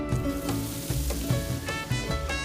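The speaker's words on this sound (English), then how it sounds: "You want to hear that sizzle." Loud, steady sizzling of oil and butter in a hot pan, a constant crackling hiss with occasional sharper pops and clinks.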